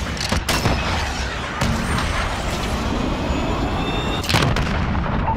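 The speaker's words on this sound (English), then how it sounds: "Cruise missile, go for launch." A cruise missile in Call of Duty: Modern Warfare launches and strikes, with loud, broad blasts and a continuous roaring rush between them, and sharp bursts near the start and again toward the end.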